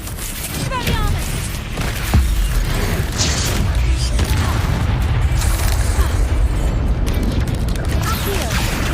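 Spells cast in the video game Hogwarts Legacy, a dense, loud wash of booming bursts, crackles and whooshing effects that runs continuously, with a voice faintly mixed in.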